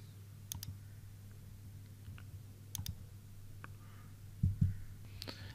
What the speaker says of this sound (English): Now you have to press 4 from your keyboard.